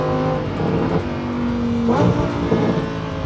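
A Lamborghini's engine revs through a downshift, a steady loud roar with a rising blip near the two-second mark and another shortly after, close to the car with no talking.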